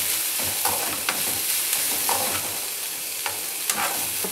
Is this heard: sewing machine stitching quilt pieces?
no